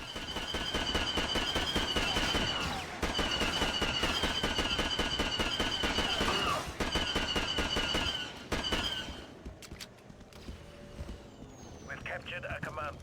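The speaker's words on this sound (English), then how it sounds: "We'll just keep on laying down fire." Blaster gunfire in the Star Wars Battlefront Classic Collection game, loud rapid bursts of repeated shots in long stretches broken by short pauses, then fading into quieter battle noise, while a player talks.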